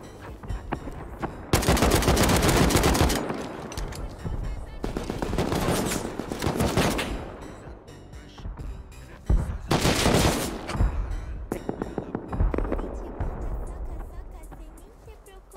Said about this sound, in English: That guy is shooting at you, damn bro.